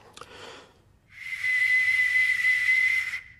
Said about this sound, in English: the piercing sound of whistling arrows